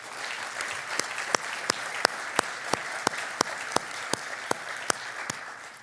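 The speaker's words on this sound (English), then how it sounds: "let's give Chuck a round of applause" Sparse applause at an award ceremony for Chuck, who has just joined the host on stage: a few distinct, evenly spaced claps stand out over a soft, distant patter in a large room.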